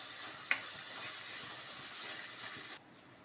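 Tomatoes sautéing in a kadai with ginger-garlic paste for rajma gravy give a steady broad sizzle. One sharp clink comes near the start, and the frying hiss drops away abruptly near the end.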